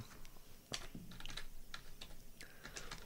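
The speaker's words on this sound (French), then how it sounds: "je tape comme ça Translate" Quiet, irregular key clicks from typing on a computer keyboard, a handful of light taps with brief pauses, close and alone without speech.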